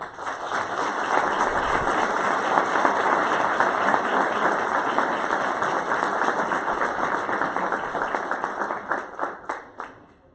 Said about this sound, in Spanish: Le damos nuevamente un aplauso,